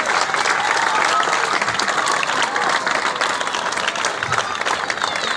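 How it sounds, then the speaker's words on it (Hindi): Loud, sustained applause from a large audience at a government school cultural fair, thick continuous clapping with light cheering in the crowd. "तालियां भाई, तालियां जोरदार।"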